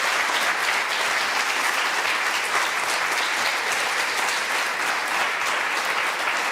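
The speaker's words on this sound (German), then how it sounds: "Gehört ein Applaus, oder?" A television studio audience applauds, dense, even clapping held at a constant level from start to finish with no talk over it.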